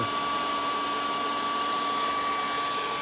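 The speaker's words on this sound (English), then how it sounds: "got it in the forge and got the forge fired up. Hair dryer" A hair dryer blows air into a charcoal-fired forge, a steady, loud whirring without a break, a constant airy hum with a faint high whine, alone and close.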